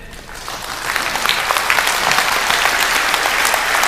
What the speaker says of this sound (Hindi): चलिए एक बार ताली बजाइए।